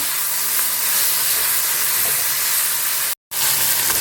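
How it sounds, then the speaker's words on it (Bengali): Small mourala fish fry in oil in a kadai, a loud, dense, steady hiss of sizzling that breaks off for a moment before resuming. "আগে মৌরলাটা ভেজে নিই, তারপরে এই কড়াতেই বাঁধাকপিটা একটু গরম করে নেব।"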